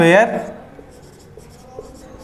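Chalk or marker strokes on a board during a lecture on Fourier transform properties, a few faint scratches after a brief spoken word at the start.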